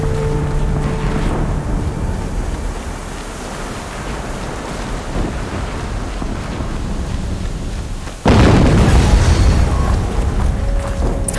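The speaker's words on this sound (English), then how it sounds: "Another explosion." Another explosion in Horizon Zero Dawn goes off late, about eight seconds in, as a sudden loud boom over a steady rumbling, wind-like background, with the blast lingering to the end.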